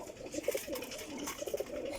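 A breeding pair of pigeons in a loft coo in repeated low, throaty bursts close by, steady over two seconds, with faint background rustling and no talking.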